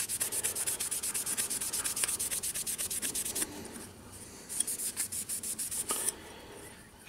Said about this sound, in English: a bit of steel wool. Or a bit of Scotch-Brite for a start. Some fine wet and dry, just to get all the scratches and imperfections out of it.